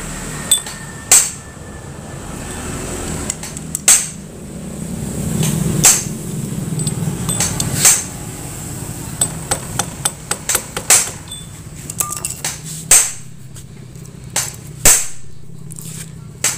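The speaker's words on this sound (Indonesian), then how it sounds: "kita jangan lupa untuk membengkokkan ring penahan mur tersebut" A hammer strikes again and again to bend a nut lock washer on a Yamaha motorcycle clutch, giving sharp metallic taps in uneven bursts, close and loud, with no voices.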